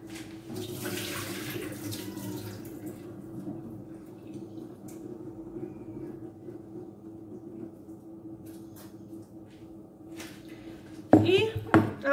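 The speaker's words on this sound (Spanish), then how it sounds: "le voy a vaciar este agua" Water is poured out of a container while making Moroccan smen butter, giving a steady, soft running trickle over low background hum, with a sudden louder splash near the end.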